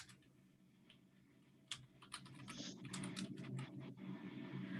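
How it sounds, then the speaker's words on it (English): Close, quiet computer keyboard typing as an address is entered, with a few hesitant taps and then a quick flurry of irregular keystrokes. "So I'm going to type in the address."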